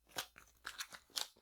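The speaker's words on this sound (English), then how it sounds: "So I'm just going to pull a couple more cards" Tarot cards being pulled from a deck: a quick series of four or five crisp, close, quiet papery snaps and rustles over about a second.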